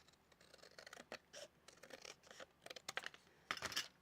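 Scissors snip through a small tab in a series of quick, crisp cuts with light scratchy rustling between them, close and fairly quiet, no voices.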